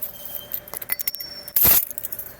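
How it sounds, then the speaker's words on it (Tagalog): House keys jangle in a series of bright metallic rattles and clinks up close, ending in one longer, louder shake. "Kaya bibigyan ka ng susi, papasok ka na lang mag-isa mo sa bahay."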